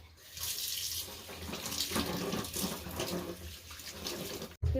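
Water running from a tap over a stone grinding slab (sil) being washed, a close continuous splashing stream that briefly cuts out near the end.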